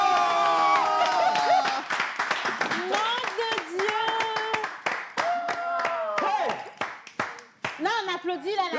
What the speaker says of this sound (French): Là, on applaudit, là, on a bien entendu.